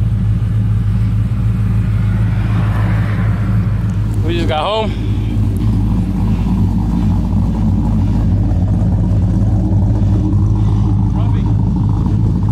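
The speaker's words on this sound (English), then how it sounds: "so you can hear a little bit of the idle a little more when it's warmed up already" A car fitted with Speed Engineering headers idles warm in a steady low rumble throughout, with a voice speaking briefly over it.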